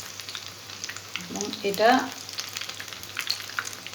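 Coriander-leaf chops dipped in batter are lowered into hot oil in a home kitchen, where they sizzle and bubble in a swelling burst around the middle of the clip. A voice speaks briefly over the frying.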